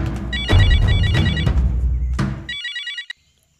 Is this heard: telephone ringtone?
yes